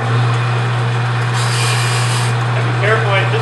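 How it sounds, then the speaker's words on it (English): Sandpaper pressed against spinning wood on a lathe, a continuous close rasping hiss over the steady low hum of the motor. "I'll get some sandpaper and we'll start sanding."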